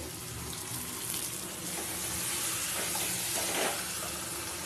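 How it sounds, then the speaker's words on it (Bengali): Water poured into a cooking pan of curry being simmered down, a steady broadband running-water rush with faint sizzling underneath, continuous and fairly close, no talking. "দেখো আর একটু আমি জল দিয়ে দিচ্ছি, এটা ভালো করে কষিয়ে নেওয়ার জন্য।"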